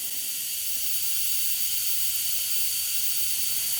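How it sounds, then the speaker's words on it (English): Compressed air hisses steadily into a turbo wastegate through a three-port Mac boost-control valve, a bright continuous leak-like rush that holds at an even, close, fairly loud level throughout with no talking. "Alright, so there we have air coming in. You can hear it flowing."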